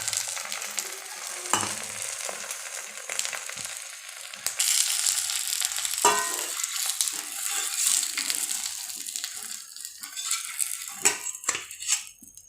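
An egg fries in hot sesame oil for a half-boiled fried egg with an unbroken yolk, crackling and spitting up close while a spatula scrapes and clinks against the pan, with no talking.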